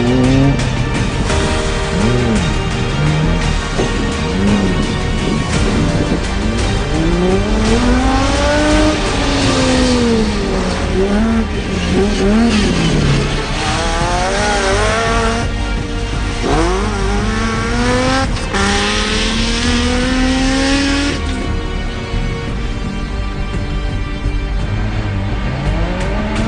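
Off-road race cars accelerate through prologue racing at the Excelsior 250, engines revving up and down in repeated rising and falling sweeps, loud and close, with gear changes and passing vehicles.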